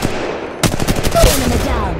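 Rapid automatic gunfire in Apex Legends Mobile, a dense burst of loud shots that starts abruptly after a quieter opening and keeps hammering to the end, with game effects layered underneath.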